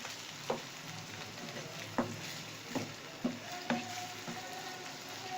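Ingredients for stuffed qeema karela sizzling and frying in a pan, with soft, steady crackle and several sharp scrapes as they are stirred, quiet and close.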